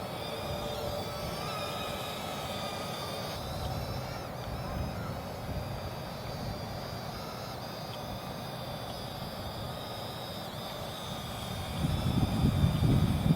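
JXD 515W mini RC quadcopter flying outdoors in a 10 to 12 mph wind, a thin steady high-pitched propeller whine held at moderate distance over wind noise, growing louder near the end.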